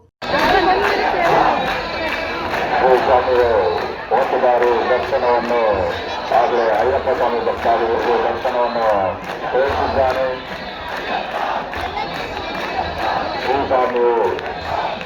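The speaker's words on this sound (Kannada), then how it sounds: "ಅಯ್ಯಪ್ಪ ಸ್ವಾಮಿ ವೃತಾಧಾರಿಗಳ ಹಾಗೂ ಭಕ್ತಾದಿಗಳ ಜೈಕಾರ ಮುಗಿಲು ಮುಟ್ಟಿದ್ದವು" Ayyappa devotees and worshippers at a temple chariot festival for Subrahmanya raise loud, sustained jaikara chants, a dense crowd shouting in rolling waves that fill the air continuously.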